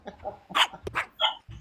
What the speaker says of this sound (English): I can't hear you because the dog keeps barking.